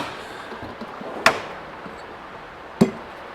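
Two sharp metallic hammer strikes on a punch, peening metal on a Suzuki GSX-R 1000 clutch, about a second and a half apart, loud and close against a quiet background.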